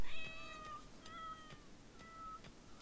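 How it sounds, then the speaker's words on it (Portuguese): Cats meow in the RimWorld video game, three separate high, drawn-out meows evenly spaced over a steady hiss of game background, with no talk. "O John não tá matando os gatos"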